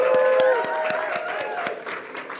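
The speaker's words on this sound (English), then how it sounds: "Round of applause for Lady Unchained," Audience applause at an awards ceremony, a round of clapping with scattered cheers rising and fading over a couple of seconds, mixed with crowd murmur.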